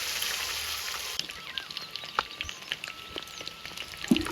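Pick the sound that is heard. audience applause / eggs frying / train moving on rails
eggs frying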